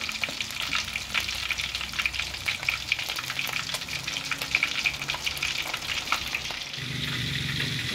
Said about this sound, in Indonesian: ini yang kita goreng